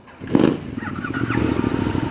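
A Ducati Multistrada motorcycle with a Termignoni exhaust fires up outdoors, a short cranking burst followed by a steady, loud, throaty idle that carries on close by.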